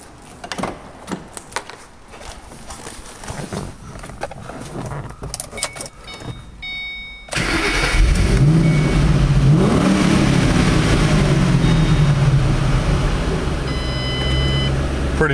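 A 2007 Ford Mustang GT Premium's V8 engine starting, preceded by keys jangling and clicks, then catching abruptly into a loud, steady rumble with rising and falling revs that continue to the end.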